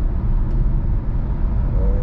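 A car cruises along a rural Virginia road on a road trip, a steady, loud low rumble of engine and tire noise inside the moving vehicle.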